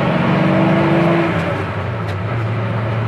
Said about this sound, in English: For an old truck, it goes down the road good.